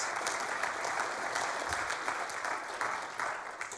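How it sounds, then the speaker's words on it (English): An audience breaks into applause during a sermon-style talk, a sustained, even wash of many hands clapping that carries on alone without any speaking. "You're allowed to applaud if you want."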